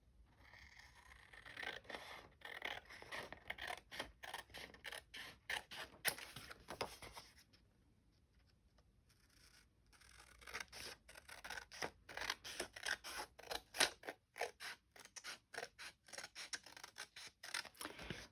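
Scissors snip steadily around a sheet of 12 x 12 scrapbook paper, a run of quick crisp cuts that pauses briefly partway and then resumes, close and fairly quiet with no talking.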